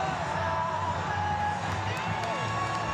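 A sellout crowd of over 8,000 at Toyota Field for a San Antonio FC versus Louisville City FC soccer match, a dense continuous roar of cheering and whoops from a distance, steady and loud throughout.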